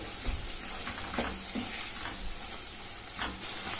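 Sliced onions frying with turmeric and salt give a soft, continuous sizzle, with a few light scrapes and taps as they are stirred in the pan, and no talking.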